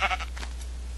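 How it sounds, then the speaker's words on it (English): A Minecraft sheep gives one short, nasal bleat, brief and clear over a steady low hum, with no talking. "Sheep, why is the sheep lagging up?"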